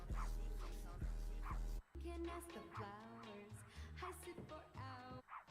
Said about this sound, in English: There's some dog running down the path.